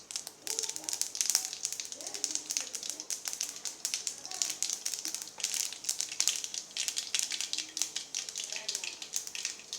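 Mustard seeds spluttering in hot oil in a kadai, tempering for a pottukadalai coconut chutney. A steady stream of fine, dense crackles and pops continues close by for the whole stretch.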